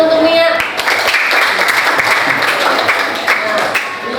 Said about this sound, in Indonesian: Tepuk tangan untuk Mia.